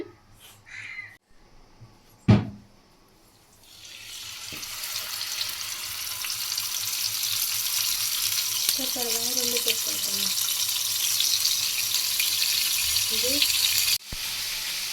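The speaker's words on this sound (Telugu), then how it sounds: "దీన్ని హై ఫ్లేమ్లో 5 to 10 మినిట్స్ వేయించుకోవాలి." Marinated tandoori chicken hitting hot oil over a high flame, a loud steady sizzle building after a sharp clatter and continuing with brief scraping and tonal clinks near the end.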